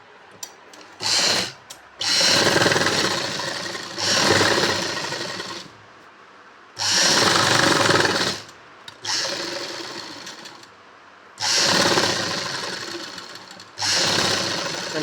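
A sewing machine stitches a boat-neck garment seam in several loud, steady bursts of a few seconds each, separated by short pauses, with no talking.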